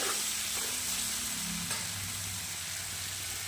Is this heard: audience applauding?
no